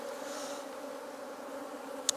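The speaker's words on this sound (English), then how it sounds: "the bees are quite busy on the comb" Honey bees buzz steadily on the brood comb while a hive is opened for inspection. The drone is close and constant, and one brief sharp click sounds near the end.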